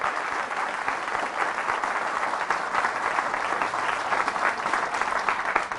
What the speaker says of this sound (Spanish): Fuertes aplausos al Rey de Reyes, al Señor de Señores, Cristo Jesús.